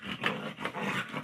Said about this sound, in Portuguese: os cachorros aqui estão, né, virado, e estão me deixando doido aqui, não para